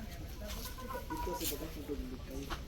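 Young chicks at a farmhouse chirp in quick, thin, overlapping peeps, with a few lower clucks, heard fairly close over a soft, steady outdoor background.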